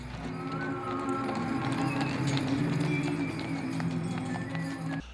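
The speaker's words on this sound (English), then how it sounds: "Belgian draft horses providing hay rides through the town." Hooves of Belgian draft horses pulling hay rides through a town clop steadily in a crowded outdoor street scene, with background chatter and bustle.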